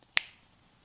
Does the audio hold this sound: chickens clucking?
no